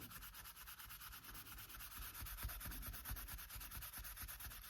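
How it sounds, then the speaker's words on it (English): A hand rubs firmly over spots on leather during the making of a trifold wallet, producing a steady close, soft friction sound with faint quick strokes and no voices. "Lay them down here and give them a good rub."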